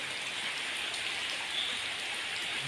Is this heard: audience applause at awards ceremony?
no